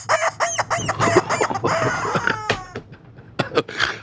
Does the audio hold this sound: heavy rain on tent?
no